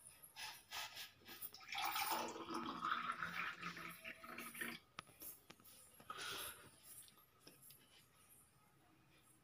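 Water being heated gives off a soft, irregular sizzling hiss in uneven bursts, quiet and close, fading toward near silence by the end.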